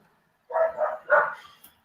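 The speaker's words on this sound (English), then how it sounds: "Who's got the barking dogs?" A neighbor's dogs barking from a nearby yard, three quick barks in a short burst with a faint trailing yip, fairly close and clear against silence.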